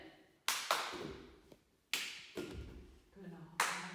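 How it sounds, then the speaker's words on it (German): Children clapping their hands during a ball coordination exercise, with sharp single claps and thuds spaced a second or so apart and faint talk between them. "Immer schön einmal klatschen."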